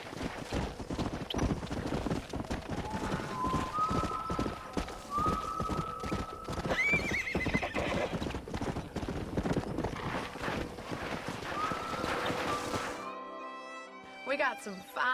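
Horse hooves clip-clop in a rapid, steady gallop inside the video game Red Dead Redemption, and a drawn-out neigh rises near the end, with talk running over the action.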